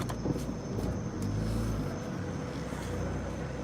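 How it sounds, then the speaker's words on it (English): An economy car manoeuvring into a tight parking spot at night, a steady low engine rumble with a slight swell in the middle, heard from inside a nearby car. "I know that's that old lady's car."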